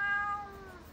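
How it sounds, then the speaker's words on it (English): A pet cat gives one clear, close meow that starts strong and tapers off within a second, with no one talking. "Here's my cat"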